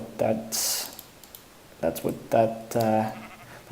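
Sheep in the video game Minecraft bleat in short, close calls, several bleats spaced across the moment, while a person talks over the game audio and taps keys.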